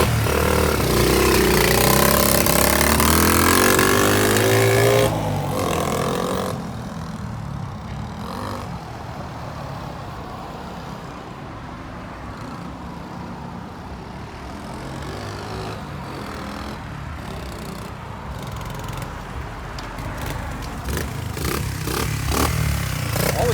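A Honda SL70K1 motorcycle's small engine runs steadily outdoors, its low buzzing idle holding for most of the stretch before picking up into revs near the end, with a louder mechanical burst at the start.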